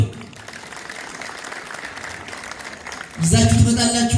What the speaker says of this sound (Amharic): እስኪ እንደው በደንብ አጨብጭቡ